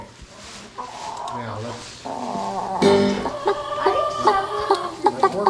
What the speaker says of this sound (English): You need to conduct those chickens a little bit.